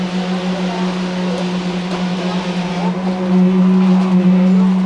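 A concrete vibrator compacting freshly poured concrete for a large foundation drones steadily nearby, its constant buzzing hum growing slightly louder toward the end, with faint site noise around it.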